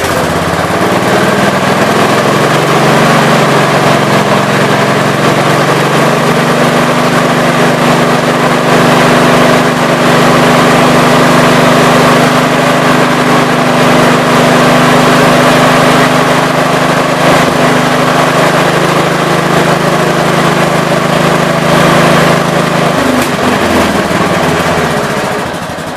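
A 1967 430 engine runs loud and close, holding a steady mechanical drone that climbs and stays raised for a long stretch before settling back down near the end.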